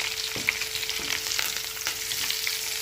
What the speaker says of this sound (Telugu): ఉల్లిపాయలు అయితే బాగా అయితే ఫ్రై అవుతా ఉంది ఆయిల్ అయితే బాగా హీట్ ఎక్కిందండి